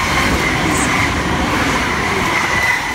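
An Xplorer passenger train from Canberra, bound for Sydney, runs through Ingleburn station without stopping, making a loud, steady roar of wheels and rails that holds evenly throughout, with a faint squeal above it.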